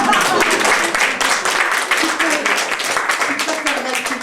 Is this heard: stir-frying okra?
no